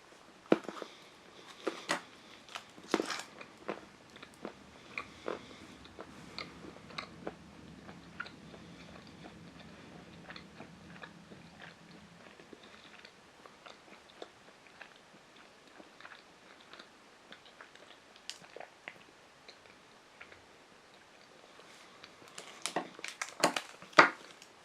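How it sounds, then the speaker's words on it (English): Someone bites and chews a piece of María Tepoztlán milk chocolate for a long stretch, with faint close crunches and wet munching in an irregular rhythm and brief sharp snaps. It is quiet and intimate, with no talking. "it requires quite a bit of munching or chewing"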